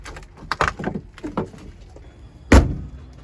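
A door on an old 1980s custom-scene car shuts once with a solid, close thump near the end, after a stretch of quiet handling noise and shuffling.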